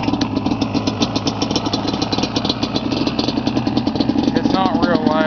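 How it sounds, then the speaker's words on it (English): A Yamaha Banshee ATV two-stroke engine with an old style FMF exhaust idles steadily, with a fast rattling pulse and a few blips of throttle near the end, close and fairly loud over talk in the background. "I'll fire it up for you here."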